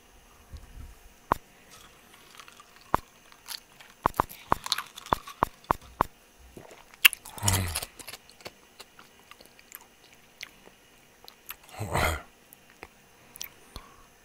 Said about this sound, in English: Chewing on some ice.